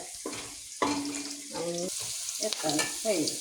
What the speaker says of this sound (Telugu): ఉల్లిగడ్డలు వేంపింది పచ్చిమిర్చి ఉల్లిగడ్డలు వేంపింది స్టవ్ మీద